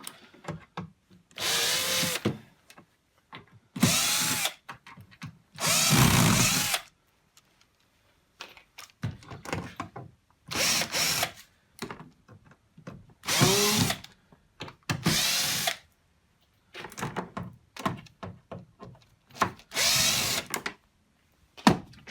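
A power drill unscrews the back panel of a Sanyo EM-C1800K industrial commercial microwave, whirring in about ten short, close, loud bursts separated by brief pauses.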